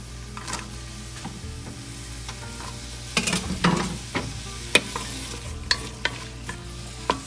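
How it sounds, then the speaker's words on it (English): Onions and garlic fry in olive oil in a preheated pan, a steady close sizzle with scraping stirs and a few sharp clicks over it. "We'll put a bit of olive oil in here and then add the onions"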